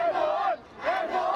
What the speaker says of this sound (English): hundreds are out here chanting, cheering, and praying